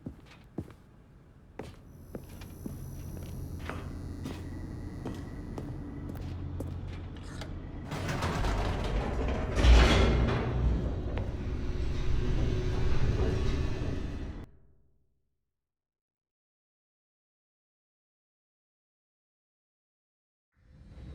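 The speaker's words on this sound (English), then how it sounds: "The elevator raced downward, plummeting towards an unknown fate." An elevator descends in the video game The Stanley Parable: Ultra Deluxe, giving a steady mechanical rumble with creaks and clanks. The rumble swells midway, runs for about fifteen seconds, then cuts off to silence.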